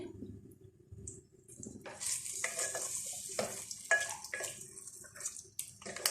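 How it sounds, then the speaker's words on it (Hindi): Yogurt goes into chicken karahi frying in a pan, bringing a rising sizzle with stirring scrapes and wet splatter that runs steadily, close and moderately loud. "अब इसमें हमारे पास जो दही है ये दही डाल देंगे।"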